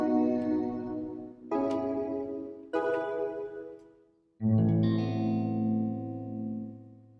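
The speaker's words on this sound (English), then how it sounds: "I might go back to a room-sized reverb," A Smpltrek synth plays four sustained, distorted chords, each left ringing in a room-sized reverb that decays quickly once the chord stops.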